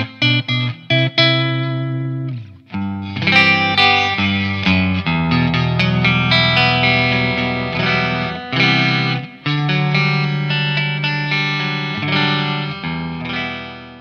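A Schecter electric guitar plays through high-gain distortion, loud and sustained, with short staccato chord stabs at first, then ringing, saturated chords and riffs that continue without pause.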